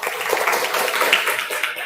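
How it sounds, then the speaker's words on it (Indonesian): A classroom of students claps for a classmate, producing steady, dense applause that carries on evenly for a couple of seconds without fading. "Sebelumnya kita berikan tepuk tangan dulu untuk Amelia"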